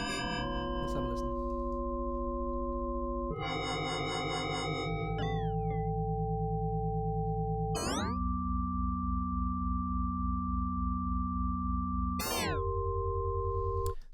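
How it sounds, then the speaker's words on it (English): A synthesizer steps through six arbitrarily chosen notes, each a sustained tone with a pitch glide at the changes, loud and alone with no talking. "this time I've created a clip inside the synth. This clip here just has a bunch of random notes."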